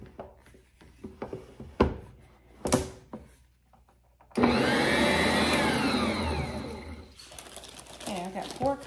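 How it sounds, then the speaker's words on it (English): An electric stand mixer kneads Amish bread dough, starting up abruptly into a loud, steady motor whir that runs for a few seconds and then fades. Kitchen clatter and knocks come before it. "I'll put it back on the mixer stand here."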